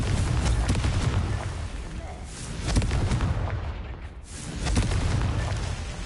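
Confringo fire spell explosions in the game Hogwarts Legacy on PS5, rumbling blasts and crackling bursts in repeated waves with a brief lull between them, loud and close.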